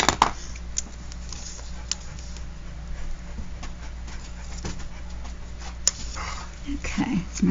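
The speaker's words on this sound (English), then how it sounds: "That's my dog, if you hear a funny sound." A dog makes short whimpering yips and small barks indoors, fairly near, scattered briefly among quiet room noise, with a person talking over parts of it.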